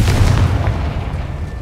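A Confringo fire-blast spell goes off in Hogwarts Legacy, a loud, deep booming burst that rumbles and fades over a second or so, with no voices over it.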